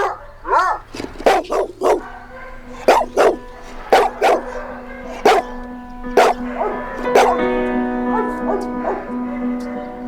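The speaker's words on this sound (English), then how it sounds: "Frantic barking is a dog's way of talking to us" A dog barks frantically in quick, loud bursts, a volley of close sharp yaps with brief whimpering tones between them, all continuing without any talk.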